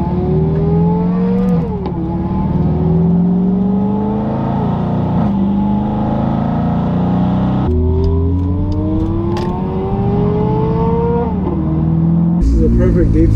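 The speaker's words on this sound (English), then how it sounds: "like a naturally aspirated V8, a beautiful exhaust" Ferrari F430 Spyder with a naturally aspirated V8 and catless exhaust, revving hard through repeated upshifts, each rising whine cut by a gear change; loud, close and continuous from inside the car.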